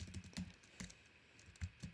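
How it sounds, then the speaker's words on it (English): Computer keyboard typing during a programming session: short bursts of key clicks arriving in a few clusters, close and fairly quiet, with no talking. "And then there's a little bit less typing going on."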